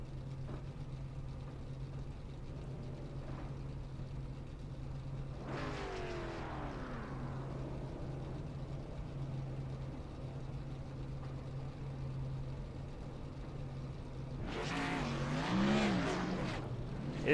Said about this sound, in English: They'll be following that iRacing pace car, that Ford Mustang, through the racetrack